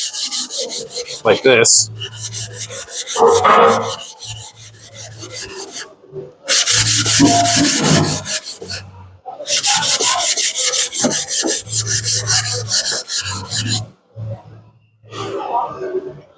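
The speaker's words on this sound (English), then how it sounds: "I'm sharpening on the right side" A 250mm Takeda NAS gyuto knife is drawn over a whetstone in long, rhythmic rasping strokes, loud and close, in repeated runs separated by brief pauses, with a few quiet spoken words.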